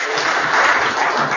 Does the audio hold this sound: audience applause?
yes